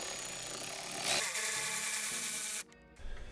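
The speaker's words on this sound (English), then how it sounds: "take your ratchet, and we're going to take out this clip here behind the tail light on both" A power ratchet removes a plastic clip behind the tail light of a Tesla Model 3 rear bumper, whirring loudly and continuously close by, then cutting off abruptly before a brief clatter.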